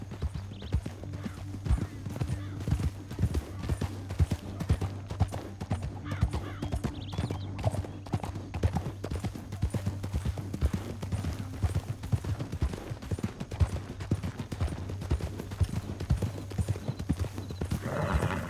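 Horses gallop in Red Dead Redemption 2, steady rapid hoofbeats drumming on a canyon trail under a low rumbling bed, with occasional whinnies and faint distant gunfire mixed in.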